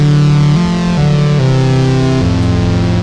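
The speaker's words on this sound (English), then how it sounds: "Lexicon 224 Reverb." Loud sustained synth chords shift through a few notes, each washed in a lush Lexicon 224 reverb plugin effect that lingers between changes.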